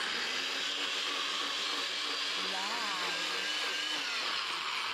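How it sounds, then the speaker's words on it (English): Peeled lychees being blitzed in a blender, a loud continuous whirring motor drone with a slight pitch wobble as the fruit churns, steady throughout. "In a blender, give it a good blitz."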